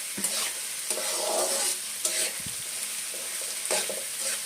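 Onions and peanuts fry for upma in a pan, a continuous sizzle broken by repeated scraping stirs at a steady rhythm, close and moderately loud with no talking.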